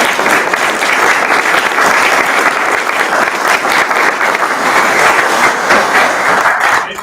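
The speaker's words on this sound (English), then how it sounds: "let's give those families whom you represent" A graduation audience claps loudly and continuously for the families, a thick, even roar of hands that never lets up.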